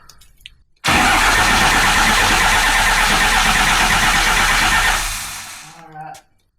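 A rebuilt 1920 Ford engine fires abruptly and runs loudly for about four seconds before sputtering down. A voice is heard faintly before and after.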